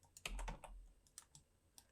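Rapid clicks of a computer keyboard during Blender low-poly character modeling, with a quick burst of close keystrokes followed by scattered single taps and no talk.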